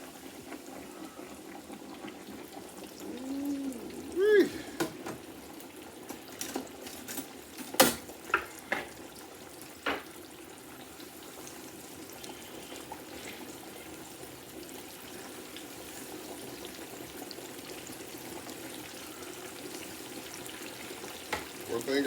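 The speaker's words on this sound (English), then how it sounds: "I think I'm gonna cook them all because they're all going under the grease." Pork chops deep frying in grease in a Masterbuilt deep fryer give a low, steady bubbling sizzle throughout, with a few sharp clatters and someone speaking now and then.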